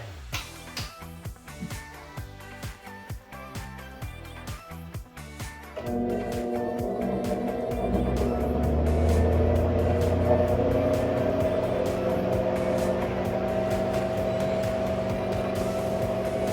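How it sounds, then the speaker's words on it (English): A large blower door test fan spins up partway through, its hum rising to a steady, loud drone that continues to the end. "We're going to turn up the fan, and it's going to get a little loud."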